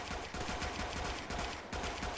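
Rapid machine gun fire in the World War I shooter Tannenberg, a dense, steady rattle of shots with a few louder surges, close and continuous over a noisy battlefield backdrop.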